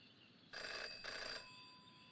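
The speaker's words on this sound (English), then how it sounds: "Jenny had learned never to ignore a ringing phone." An old-style telephone bell rings twice in quick bursts in the video game Jenny LeClue Detectivu, a bright metallic trill heard alone over a quiet background.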